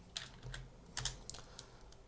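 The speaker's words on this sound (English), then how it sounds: "So press tab and type shuffle" Quick, light typing on a computer keyboard during compositing work in Nuke, a short burst of soft clicky key taps, close and quiet, with no speech.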